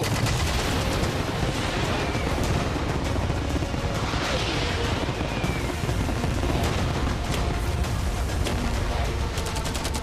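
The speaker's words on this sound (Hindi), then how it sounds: "मैं चाहता हूँ कि तुम कैनन्स, फायरवर्क्स, एरोज, कैटापुल्ट्स सब कुछ एक साथ फायर करो" Cannons, fireworks, arrows and catapults loose all at once in a mock battle to protect a yacht, a dense, continuous roar of blasts, cracks and rumbling booms sustained at full loudness with no letup.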